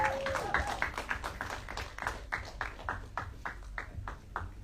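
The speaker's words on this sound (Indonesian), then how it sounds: "kita juga berikan tepuk tangan yang meriah untuk Reval Hadi" Applause at a film press conference for the horror film Perempuan Bergaun Merah, with Refal Hady welcomed: a crowd claps in a dense, even run of sharp hand claps that gradually thins toward the end.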